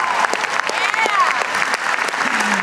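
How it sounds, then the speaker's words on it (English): An audience applauds a guest at a live talk or motivational event, a steady sustained round of clapping that carries through the whole stretch with a voice cutting across it. "Give Wahid a big round of applause."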